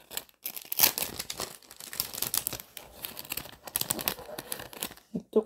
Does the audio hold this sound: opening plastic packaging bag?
yes